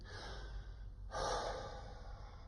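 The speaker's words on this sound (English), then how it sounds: "Breathing in." A singing teacher takes a soft, close breath in, letting elastic lung recoil draw the air, a brief airy inhale following quiet breath noise and room hush.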